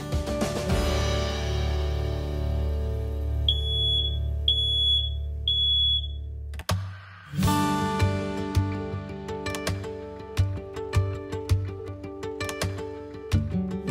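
A smoke alarm sounds three short, shrill, evenly spaced beeps, loud and close, over a steady background hum, followed by a sharp bump and scattered clicks.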